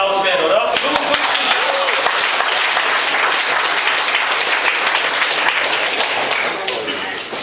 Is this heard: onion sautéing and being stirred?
no